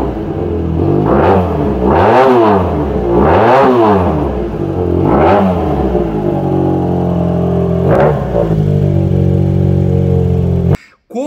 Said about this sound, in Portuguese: a moto realmente emite um ronco completamente diferente dessa ali a 180 graus